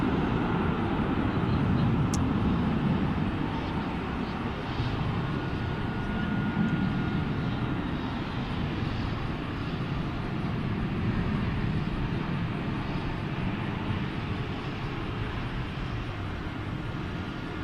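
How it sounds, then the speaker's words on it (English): Steady broadband jet roar from an Asiana Cargo Boeing 747-400 at Dallas/Fort Worth International Airport continues through the clip, loud and even, with no talking. "So that's an Asiana Cargo 744."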